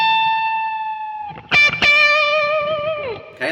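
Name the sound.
electric guitar string bend released into root note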